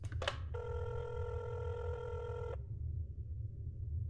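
An in-game telephone in INFRA rings once with a steady electronic tone lasting about two seconds, heard close and clear over a low background hum.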